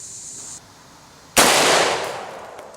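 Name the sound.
AK rifle firing 7.62x39 round at target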